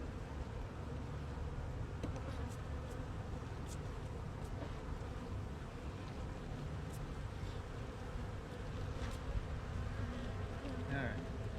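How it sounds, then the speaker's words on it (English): Honeybees buzz steadily around a honey frame as it is cleared with a bee brush, a close, continuous drone with no talk. "We want to get rid of all the bees on this frame here."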